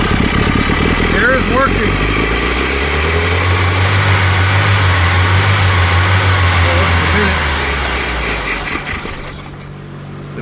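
1983 K-Car wagon engine with 5-speed running loudly after sitting 30 years, a steady close rumble that fades near the end, with people talking over it.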